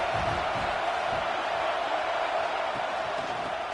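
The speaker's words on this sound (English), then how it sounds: "This crowd going to try to make life miserable for these guys." Crowd at a college football stadium roars as a continuous, dense wash of noise, loud and distant-sounding throughout.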